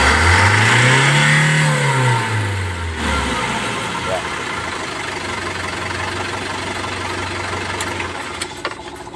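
An Isuzu Travis engine, troubleshot for low power and stalling, revs up and falls back in a loud close sweep, then settles into a steady rough idle with a few metallic clicks near the end.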